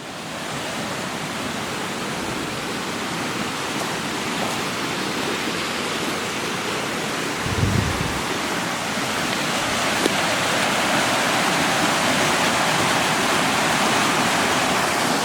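A river at the base of the Sangre de Cristo mountains rushes in a loud, constant broadband roar of flowing water, steady and close throughout with one brief thump partway.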